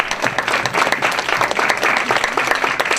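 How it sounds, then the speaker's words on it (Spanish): An audience gives a thick burst of clapping that rises and falls a little while it stays lively and full, with faint crowd murmur underneath. "Y por supuesto, un aplauso para el maestro Daniel"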